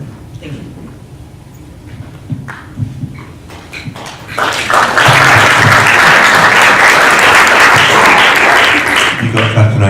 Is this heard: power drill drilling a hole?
no